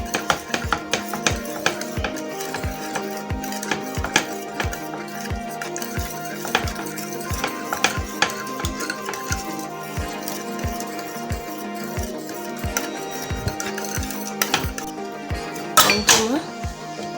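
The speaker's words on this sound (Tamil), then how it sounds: "அதனால் நம்ம சிம்மில் வச்சுட்டு நல்லா மிக்ஸ் பண்ணணும்." A spoon stirs ragi koozh porridge in a pot over low heat, tapping and scraping in a steady rhythm of regular knocks, close and fairly quiet, with a louder clatter near the end.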